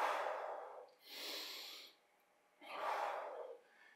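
Slow, deep breaths during a stretching exercise: two long airy exhalations with a quieter intake between, close to the microphone and alone with no talk.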